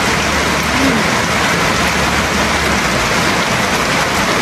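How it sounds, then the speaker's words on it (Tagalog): Heavy rain pours steadily and loudly as a dense, unbroken hiss close by, with no voices over it. "Umuulan."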